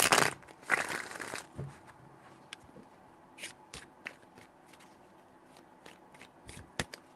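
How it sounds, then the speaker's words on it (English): A deck of tarot cards is shuffled in a few close, crisp riffling bursts near the start, followed by scattered soft card taps and handling clicks in a quiet room. "Three shuffles."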